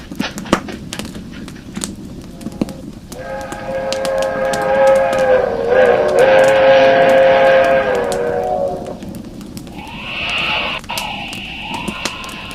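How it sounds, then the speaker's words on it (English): A long, steady train whistle blows from a distance for a highway crossing in an old-time radio drama, harmonic tones rising over a rumbling background, then fading into a higher tone near the end. "There's the train. Traveling fast, all right."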